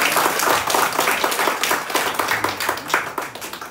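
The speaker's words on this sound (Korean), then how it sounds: "우리 박수로 한번 환영할까요?" A church congregation at a Sunday service claps together to welcome someone, a lively close burst of many hands that swells and eases slightly over a few seconds, with no talking.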